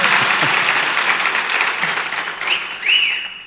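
An audience at an AWS re:Invent 2018 conference talk breaks into steady, fairly loud applause that holds for a few seconds and then thins out, with a couple of brief higher tones near the end.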